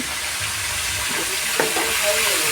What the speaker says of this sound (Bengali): কাঁচা লঙ্কা, শুকনো লঙ্কা ফোড়ন দিয়ে সবজিটা বানাচ্ছি।